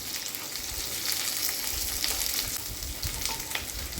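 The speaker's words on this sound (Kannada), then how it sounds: "ಇದನ್ನು ನಾವು ಹೈ ಫ್ಲೇಮಲ್ಲಿ ಒಂದು ಸ್ವಲ್ಪ ಕ್ರಿಸ್ಪಿನೆಸ್ ಬರೋ ಥರ ಫ್ರೈ ಮಾಡಬೇಕು" Paneer frying in oil on high flame in a kadhai, a steady close crackling sizzle with soft bubbling throughout, no voices.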